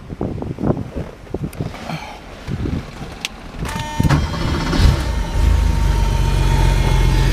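A 1986 Porsche Carrera coupe engine cranks with a few sputtering pulses, then catches and settles into a loud, steady idle close by.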